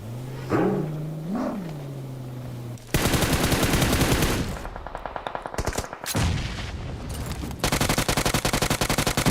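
Rapid automatic gunfire in a PUBG Mobile tournament match, loud bursts of shots that come in after a low hum and keep firing in long fast strings with brief gaps.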